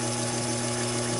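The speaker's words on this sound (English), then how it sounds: "I'm going to drill a 1/4-inch hole through there." Taig lathe drilling a 1/4-inch hole through 1-inch steel rod stock, giving a steady, loud mechanical hum with a constant motor whine and no pauses across the short stretch.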